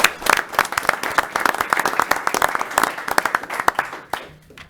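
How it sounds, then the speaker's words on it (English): Applause for a police officer at a Darien city council meeting: a room of people clapping steadily for about four seconds with sharp, dense hand claps, then tapering off abruptly near the end. "I'll give her a round of applause"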